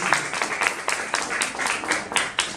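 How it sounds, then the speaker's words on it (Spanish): An audience at a public talk on disability rights applauds, with a short burst of steady clapping that sits under and alongside a speaker's voice. "un aplauso,"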